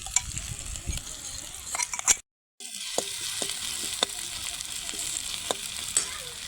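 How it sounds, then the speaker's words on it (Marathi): Garlic and chili sizzle steadily in hot oil while being sautéed for a Kolhapuri tadka, with a brief dropout and occasional clinks of a stirring spoon against the pan. "लसूण मिरची चांगली परतून द्यायची"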